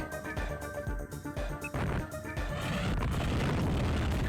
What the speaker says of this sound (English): missiles took that guy down fast